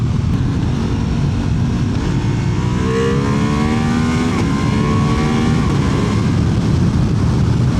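A Ducati Multistrada V4 RS motorcycle engine roars continuously on the move, loud and close, with rising and falling pitch as it accelerates through the gears, mixed with heavy wind rush.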